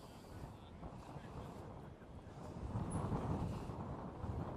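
Gusty wind buffets the microphone at an outdoor rugby league ground during a match, a steady broadband roar that swells louder toward the end, with no clear talk over it.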